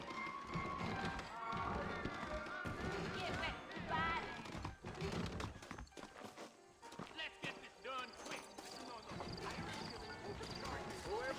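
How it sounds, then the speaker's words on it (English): Saddled horses in Red Dead Redemption, hooves clip-clopping at a run with an occasional whinny, moderately close under continuous in-game dialogue and ambient sounds. "I got the horses saddled up and ready out front"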